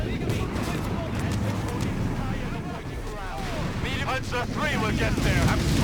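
Anti-tank gun fire in Company of Heroes 3, a World War II North Africa battle: heavy booming shots and rumbling battle noise mixed with engine drone, with radio-style voices talking over the din.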